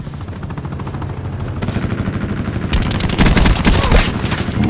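Attack helicopter in Call of Duty: Black Ops 4 opening fire with machine guns: dense, rapid bursts of automatic gunfire that grow louder and heavier midway, close and continuous over game ambience.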